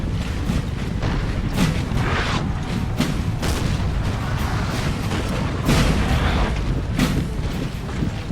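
Napoleonic-era cannon artillery firing in Napoleon Total War, a series of deep booms and irregular reports rolling over a continuous battlefield din, some near and some distant.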